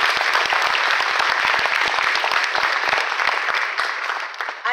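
An audience at a school choir performance claps steadily for several seconds, a dense round of applause that thins slightly toward the end, with no talking over it.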